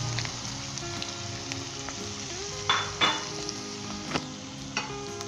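Shredded chicken and carrots stir-frying on high heat in a pan, a steady close sizzle with a few sharper scrapes and clatters of a utensil against the pan, no voices.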